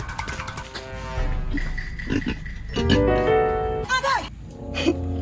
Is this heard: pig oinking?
yes